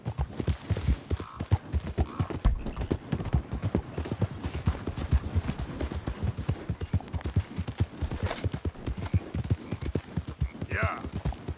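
A horse gallops in Red Dead Redemption 2, its hooves drumming in a fast, steady clip-clop rhythm close by, with a few short spoken words over it.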